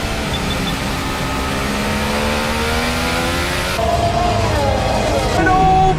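Formula 1 cars racing, one overtaking another, a loud continuous high-pitched engine whine with shifting revs and rising tones as the cars close in, under steady commentary.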